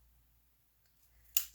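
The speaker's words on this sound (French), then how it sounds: "Ça, c'est mes ciseaux pour découper quand il y a de la colle." Craft scissors snip once, a single crisp, close cut at the very end after near silence.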